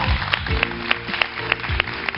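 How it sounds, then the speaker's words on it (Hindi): Applause from a studio audience on a Hindi morning talk show comes in as a steady wash of clapping, with a few sharper claps standing out and a low musical tone running underneath. "बहुत सारी तालियां।"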